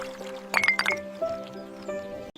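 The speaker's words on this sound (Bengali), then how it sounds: "সে একটা ছোট পাথর তুলে হাঁড়ির ভেতর ফেললো" A small stone drops into a water pot with a brief splashing plop and gurgle, heard over a sustained musical drone.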